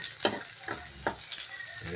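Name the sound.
squid adobo with onions frying in a pan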